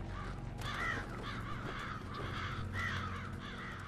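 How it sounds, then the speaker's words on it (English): A crow monster in the Resident Evil 5 video game gives harsh repeated caws, loud and close, in several bursts over constant game background noise, with no talking. "The new crow monster."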